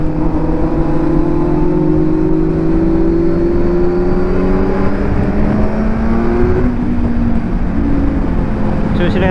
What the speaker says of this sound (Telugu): నాది IXL 55 ఎగ్జాస్ట్, దీని వచ్చేసి IXL 60. క్రేజీ సౌండ్ ఉంటుంది ఇది కూడా.